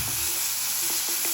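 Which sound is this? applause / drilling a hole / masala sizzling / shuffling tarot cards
masala sizzling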